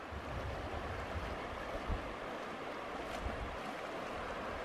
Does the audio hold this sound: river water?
yes